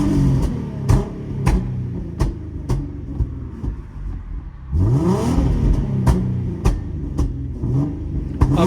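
An Infiniti Q50 with a 3.7L V6, no catalytic converters and Invidia mufflers, burbles at light throttle while sharp exhaust pops and crackles fire off in irregular bursts, loud and close.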